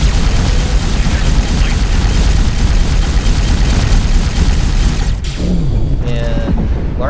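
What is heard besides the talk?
large ship exploding in X4 video game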